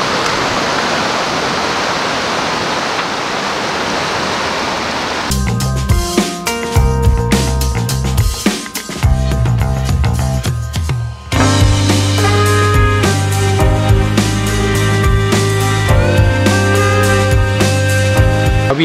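Seawater rushing in over the shore at high tide, a loud broad hiss of moving water for several seconds, then music takes over and largely masks it.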